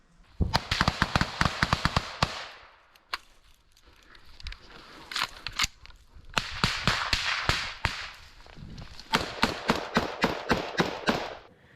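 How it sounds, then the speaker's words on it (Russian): Gunfire in combat rings out in rapid bursts of sharp cracking shots, loud and close, with brief pauses between volleys over about twelve seconds and no talking. "Прострелы на 12, прострелы на 12."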